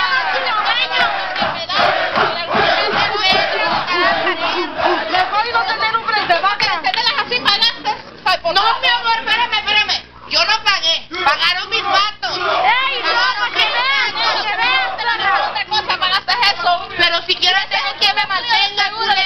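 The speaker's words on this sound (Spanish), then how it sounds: "Un aplauso para ella." A lively crowd shouts, cheers and whoops loudly through a Spanish-language show, with voices overlapping continuously and brief lulls; clapping is buried under the dense crowd noise.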